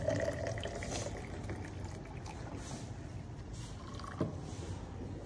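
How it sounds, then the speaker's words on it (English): Copper sulfate solution pouring into a copper vessel in a school chemistry lab, a steady close liquid stream running without pause, with one brief clunk near the end. "now we're going to pour this copper sulfate solution into the copper vessel"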